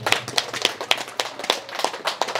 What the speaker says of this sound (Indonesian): Sekali lagi tepuk tangan untuk Pak Elias.